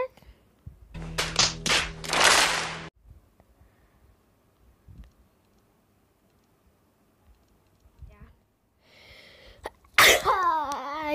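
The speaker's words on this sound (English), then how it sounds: "I just sneezed, sorry." A close, forceful sneeze erupts amid a burst of clattering noises, then a long quiet stretch follows before a voice returns and a second loud sneeze-like burst blends into vocal sounds, all while playing a horror game.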